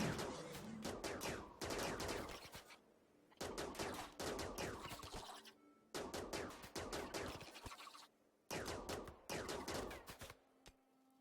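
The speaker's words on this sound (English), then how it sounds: "How about you hide behind the gunfire?" Bursts of rapid gunfire in short volleys, several seconds each, separated by brief pauses, from game weapons firing repeatedly at a monster infestation in RimWorld.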